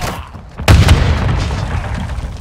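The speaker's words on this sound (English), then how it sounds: "Hostile mortar strike incoming." Mortar strike explosions in the video game Call of Duty Modern Warfare 2: a heavy, loud boom hits suddenly after a quieter stretch, followed by a sustained rumbling roar with scattered crackling bursts that slowly fade.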